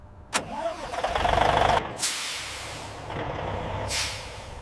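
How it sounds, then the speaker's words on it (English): A heavy diesel truck engine starts and rumbles at idle at a papaya processing factory, with sharp bursts of air hiss from the brakes breaking through the low steady drone. "Diesel engines rumble to lift once more."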